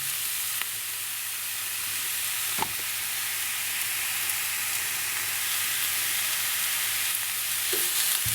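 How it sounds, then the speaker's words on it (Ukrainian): Shimmering inkcap mushrooms and onion frying in a pan, a steady soft sizzle and hiss throughout with a couple of faint clicks from stirring; no voices. "Ось гриби вже підзмажились достатньо, цибулька ще м'яка, а гриби вже трішечки такі підсушені."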